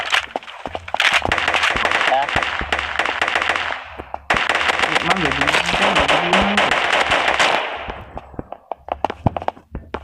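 Rapid bursts of gunfire from the online shooter game KUBOOM, dense repeated shots nearly continuous for most of the stretch, with a brief break and a tapering end, heard up close under in-game effects.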